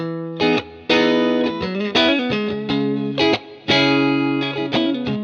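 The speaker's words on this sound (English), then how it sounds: "if you heard this guitar sound like this." Electric guitar played through effects, with distorted, chorused chords and notes in a choppy rhythm, loud and close, no talking.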